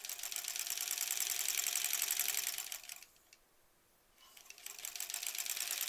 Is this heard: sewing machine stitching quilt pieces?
yes